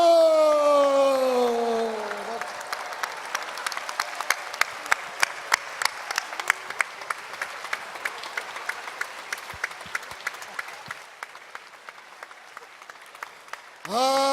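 A church congregation gives a long round of applause for a pastor couple, dense clapping swelling after a spoken call and fading gradually over about eleven seconds, with a voice speaking at the start and end.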